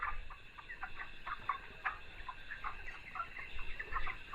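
Chickens on a poultry farm cluck in a steady, overlapping chorus at low level, with no speech.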